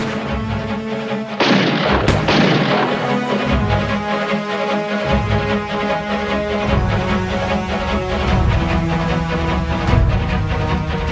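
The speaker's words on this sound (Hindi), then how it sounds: "ए, गोली चला रहे!" Gunfire bursts out in a TV crime drama, a sharp crack followed by a second shot over a dense music score, with the loud score carrying on afterward.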